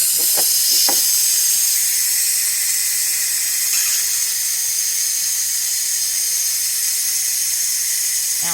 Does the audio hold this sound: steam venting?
yes